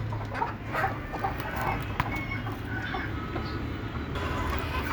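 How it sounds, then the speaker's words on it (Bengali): Native deshi hens of laying age cluck faintly on a farm, the soft calls scattered under a steady low rumbling background noise, with no speech. "এগুলো হচ্ছে সবগুলা কোচা মুরগি।"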